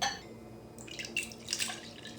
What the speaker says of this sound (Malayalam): ഇനി ഇതിലോട്ട് 1 ഗ്ലാസ് തണുത്ത വെള്ളം ഒഴിച്ച് കൊടുക്കുക.